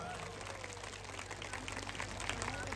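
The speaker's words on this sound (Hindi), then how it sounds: "जोरदार ताली बजा के अपना अपना स्वागत करें सब लोग" A crowd at a women's awareness conference in Gorakhpur claps together in sustained, dense applause throughout, loud and even.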